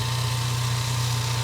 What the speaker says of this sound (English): The engine runs good now.